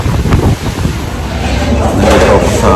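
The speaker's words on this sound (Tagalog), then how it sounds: "Bigla lumakas yung hangin." Strong typhoon wind roaring steadily across an outdoor microphone, with broadband buffeting that swells louder toward the end and no clear voices over it.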